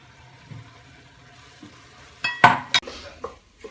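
Bacon or pancetta frying in a pan, a faint steady sizzle with soft stirring scrapes, then a louder burst of crackling around the middle followed by a few sharp utensil knocks against the pan.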